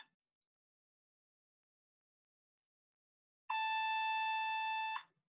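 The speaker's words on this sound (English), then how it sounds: "That's my phone there." A mobile phone rings during a lecture as one steady electronic tone lasting about a second and a half. It sounds clear and near in an otherwise silent room.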